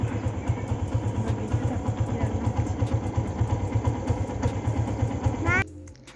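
A motorcycle engine idles close by with a steady, low, pulsing throb for about five seconds, then cuts off abruptly, with voices heard over it.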